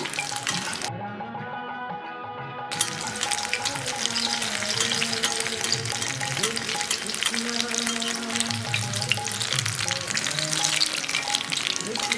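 Paneer tikka frying in spread oil gives a steady, close crackling sizzle that carries through the whole stretch without pause, with a faint tonal hum running underneath.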